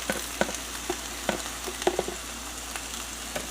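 Ricotta, cream cheese and mozzarella are stirred in a hot pan, with soft bubbling sizzle and a few sharp scrapes and clicks of the utensil close by, no talking.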